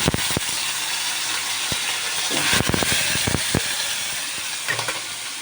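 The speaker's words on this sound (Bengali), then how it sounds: "আলুটা ভেজে নিচ্ছি।" Potatoes frying in hot oil in a home kitchen, a steady broadband sizzle running throughout, broken by sharp clicks and clatters of a spatula or utensil against the pan.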